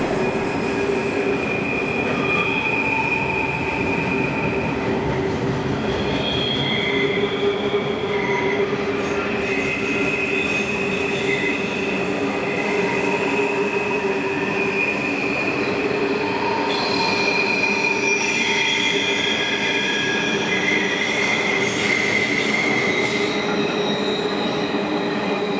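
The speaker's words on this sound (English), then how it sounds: "a Pacific National container train passes through with 481 class diesels hauling it" A container train hauled by 481 class diesel locomotives rumbles past continuously, with high metallic wheel squeals rising and falling over the steady roar of the cars.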